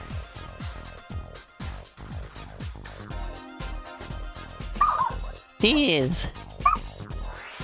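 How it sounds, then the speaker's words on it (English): A small dog barks loudly and repeatedly in sharp yips, with a person exclaiming briefly near the end. "He barks so loud."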